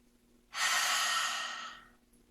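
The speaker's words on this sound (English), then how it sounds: "stick the tongue out as far as you can, and you make noise while you're breathing out" A single forceful, noisy exhale with the tongue stuck out, yoga breathing, rushes out close and loud as a broad breathy hiss for about a second and a half, then fades, with quiet before and after.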